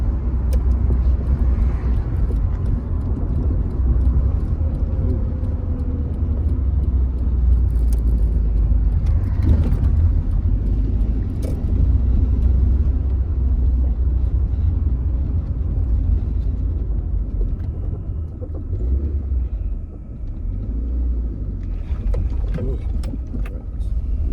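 A car engine drones steadily at moderate speed with a faint high throttle-body whine riding on top, continuous road rumble throughout and no talk.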